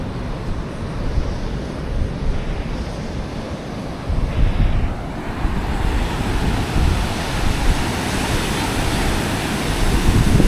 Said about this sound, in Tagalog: So, let me show you the beach this morning.